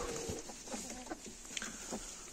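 Chickens clucking and murmuring at moderate distance, with soft scattered calls over a steady background hiss.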